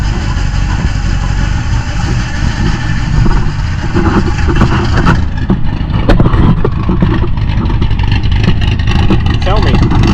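A 1964 Pontiac Bonneville's 326 V8 engine runs loud and close on a cold morning start, idling with a rough, throbbing rumble that stays steady throughout.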